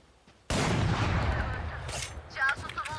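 Gunfire in Valorant breaks out sharply after quiet, a dense close burst of shots that tapers into a rumbling tail with a few more pops, with a voice speaking briefly near the end.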